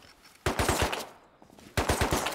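Two bursts of rapid automatic gunfire in the video game Rust, each a quick run of sharp shots, separated by a brief quiet pause.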